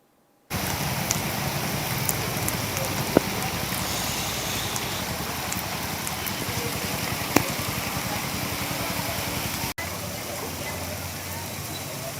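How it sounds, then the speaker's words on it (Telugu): Heavy rain lashes Vijayawada with a dense, steady hiss that carries on throughout, with a few brief clicks and a short drop partway through. "విజయవాడ జిల్లాలో, అలాగే మరోవైపు ఉభయ గోదావరి జిల్లాలో కూడా భారీ వర్షం కురిసింది"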